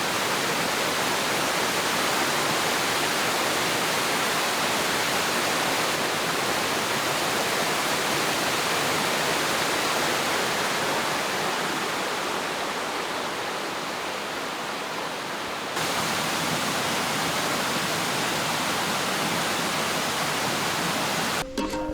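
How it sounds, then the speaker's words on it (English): A secret waterfall on the backcountry Lake Superior Pukaskwa coast, a steady, dense rushing roar of falling water, close and loud, unbroken for the whole stretch. "We've just hiked up to a secret waterfall here"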